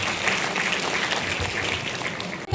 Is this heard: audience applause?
yes